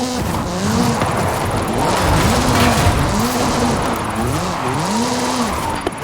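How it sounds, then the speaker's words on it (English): Ken Block's Hoonigan Gymkhana 10 Ford Focus RS RX, a 2-litre turbocharged all-wheel-drive rally car in Forza Horizon 5, drifts with a loud engine revving up and down in repeated swooping arcs, its tires squealing throughout. "This is Mr. Kenneth Block's Hoonigan Gymkhana 10 Ford Focus RS RX."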